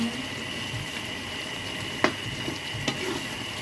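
Food sizzles and fries steadily in a pan with bay leaf added while a utensil stirs it, with a couple of sharp clinks of the spoon against the pan over the continuous crackle.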